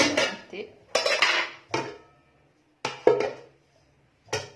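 A metal cooking pot set out for cooking meat is handled with a series of sharp clanks and scrapes, some in quick clusters and others spaced by pauses, close and crisp with no talk.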